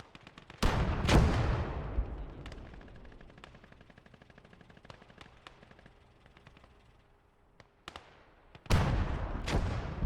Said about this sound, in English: Looks like there's a machine gun of some type over on the left,